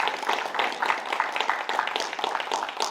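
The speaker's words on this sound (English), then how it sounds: "Let's just give a round of applause for Judy." An audience at a talk claps in a steady round of applause, many hands together at a moderate, fairly even level throughout.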